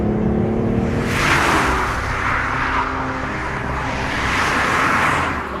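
A 2019 BMW i8 hybrid sports car under way, a broad steady engine and road roar swelling slightly and easing back, heard from inside the car with no talk.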